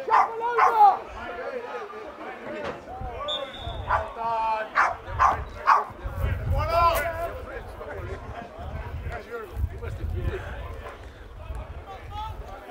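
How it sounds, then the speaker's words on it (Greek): A dog barks repeatedly at a football match between Salamina FC and Olympia FC, sharp yips scattered through a steady stream of commentary and crowd noise. "Και αυτό που ακούτε τώρα, το σκύλο να γαυγίζει"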